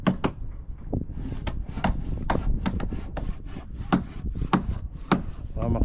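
Chisel strikes on wood during traditional banca boat building, heard as a series of sharp, irregular taps and scrapes close by, with faint background activity.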